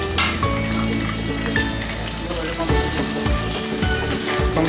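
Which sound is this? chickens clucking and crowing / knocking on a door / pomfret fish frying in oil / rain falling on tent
pomfret fish frying in oil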